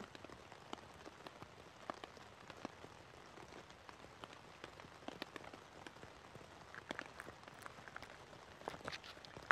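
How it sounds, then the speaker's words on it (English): Rain patters on a tent tarp overhead while camping, scattered soft taps and drips over a quiet hiss, fairly faint and steady throughout. "I wonder if you can hear the rain on the tarp."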